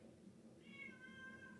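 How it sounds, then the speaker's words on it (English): A single drawn-out meow from a black cat, fairly faint and somewhat distant, rising then trailing off over a quiet low hum. "Cat in the background talking to Mama, wanting her attention."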